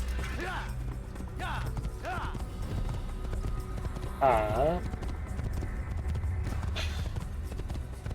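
Horse hooves clip-clop steadily in the Assassin's Creed video game, a moderate rhythmic trot beneath a man's speech, with a brief whinny partway through.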